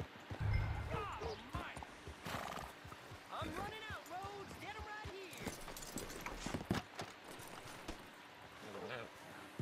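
Horse hooves clip-clop in Red Dead Redemption 2, quiet, fairly regular steps heard under a voice that talks over them.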